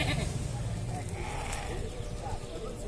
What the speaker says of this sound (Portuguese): Mas olha as cabras, a qualidade.